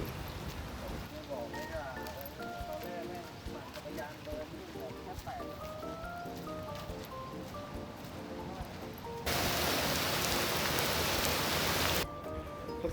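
Heavy rain pours down at a railway park in Thailand, a steady broadband hiss under faint voices that swells into a loud, dense downpour for a few seconds near the end.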